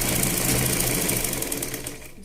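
Sewing machine stitching a lining strip onto a blouse piece, a steady fast whirring run that stays loud and close before easing slightly at the end.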